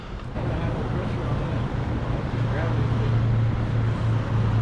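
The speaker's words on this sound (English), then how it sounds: "All right, I'm gonna prime that pump." An aftermarket DSX fuel pump on a 2018 ZL1 primes with a steady low electric hum that settles in partway through, under a constant broadband wash of noise.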